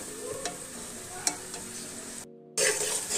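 Semolina for halwa is stirred and roasted in a pan, with a soft continuous sizzle and occasional scraping taps. The sound is close but fairly quiet, briefly cuts out, then returns brighter, with no talk.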